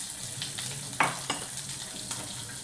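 Chopped onion and garlic with curry leaves fry in a hot pan, a steady close sizzle broken by a few sharp stirring clinks.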